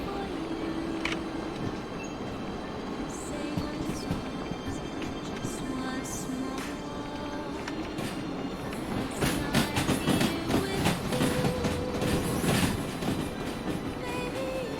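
Train rolling along rails in the video game Derail Valley, a steady rumbling run with faint wheel clatter and occasional squeals, louder toward the end.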